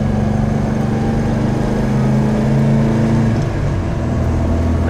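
A 1977 MGB runs on the road with a loud, steady engine drone heard from close by, holding an even pitch throughout with no voices.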